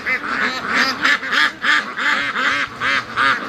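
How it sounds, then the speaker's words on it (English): Free-range ducks rushing toward a lake give loud, rhythmic quacks close by, about ten honking calls in a steady pulsing series. "Yes, ducks."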